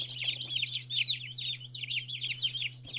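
Newly hatched Black Copper Marans chicks inside an incubator chirp in rapid, continuous high peeps, close and clear over a low steady hum.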